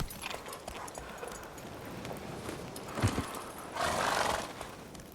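A horse whinnies and snorts in a video game (The Witcher 3: Wild Hunt) amid steady background ambience, with a louder neigh building near the end over faint clopping hooves.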